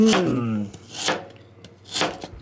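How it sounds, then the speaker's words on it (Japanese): A knife slicing hard lotus root into thin slices about 2 mm thick: two crisp, close cutting crunches about a second apart, with a brief voice at the start. "2ミリぐらいに切るね。 レンコンって結構硬いね。"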